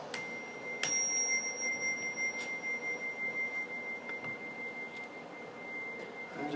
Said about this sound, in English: You can listen to the sound of the bell.